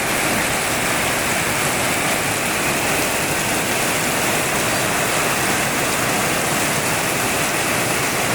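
Heavy overnight rain pours down in a dense, constant roar of hissing water, loud and unbroken throughout with no voices.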